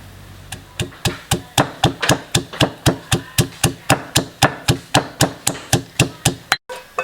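Steady, rhythmic pounding of a pestle in a mortar crushing herbs, about three thuds per second, close and loud, with a brief pause near the end.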